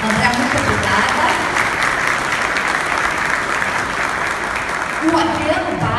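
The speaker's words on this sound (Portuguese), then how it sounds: "Uma salva de palmas para ele." Audience applause at a business panel event in Macaé honoring the president of Shell Brasil, dense steady clapping filling the room for several seconds, with a voice speaking over it near the end.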